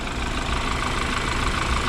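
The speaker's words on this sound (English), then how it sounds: "let me turn off the engine so you can hear me better" 2014 BMW X3 engine idling with the hood open, a steady close rumbling hum with a faint knocking texture, constant in level throughout.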